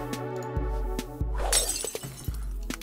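Glass shatters under a hammer blow in the video game Endacopia, a sharp crash with a bright scatter of breaking shards, set over a repeating low thudding musical beat.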